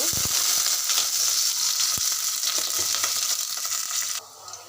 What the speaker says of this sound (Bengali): আমার পেঁয়াজটা লাল লাল ভাজি হয়ে আসছে